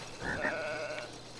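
A sheep bleats in the video game It Takes Two, giving a single short, wavering cry at modest volume against a quiet background.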